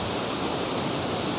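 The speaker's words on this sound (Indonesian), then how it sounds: "beginilah keindahannya air terjun Jaro yang berada di mana ya?" Jaro waterfall at Balai Tapuak, Pinang, pouring as a dense, even roar of rushing water, loud and close, with no talking.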